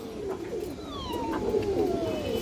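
Indian high flyer Kaldam female pigeon, a large bird, cooing with soft low murmuring coos that rise and fall over steady background hum and faint higher whistling tones.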